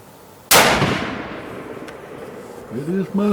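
A single loud hunting-gun shot with a sharp onset and a long decaying tail, fired outdoors during recoil-reduction testing; brief voices follow after the blast.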